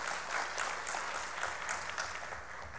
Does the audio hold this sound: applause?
yes